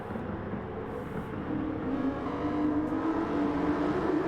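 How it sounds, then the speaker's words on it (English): Big bore street race car engines roar at a steady, loud level during a Street Car Challenge round, a continuous dense drone that swells slightly partway through with no voices over it. "listening to racing with just big bore engines"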